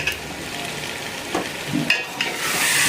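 Meat cooking with tomato fries in a pan, with a continuous close sizzle and a few scraping stirs of the spoon breaking through, with no one talking.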